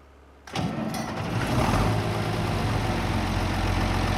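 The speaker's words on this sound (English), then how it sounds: "I think this is my new favorite tractor. It's a great model. Good sound." A tractor engine in Farming Simulator 22 cranks and catches abruptly, then settles into a steady, loud, broadband idle that holds without pause.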